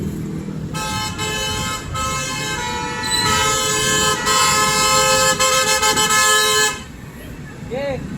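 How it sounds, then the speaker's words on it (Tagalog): Several car horns honk over one another at an intersection, long overlapping blasts layered above engine rumble and street noise, some near and loud, others farther off. "Kanya-kanyang busina."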